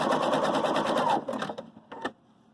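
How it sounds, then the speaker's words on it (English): A Viking Designer Brilliance 80 sewing machine stitches in a steady, fast mechanical whir for about a second, then stops and gives a few short, fainter bursts, heard close and alone. "We just tap our foot pedal. It comes down. And it stitches."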